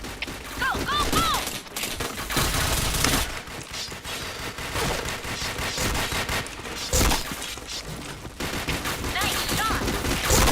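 Gunfire in the shooting game Point Blank, with rapid bursts and single shots cracking over ongoing game sounds, continuous and loud throughout, while voices chatter over the action.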